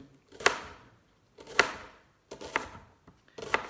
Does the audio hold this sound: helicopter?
no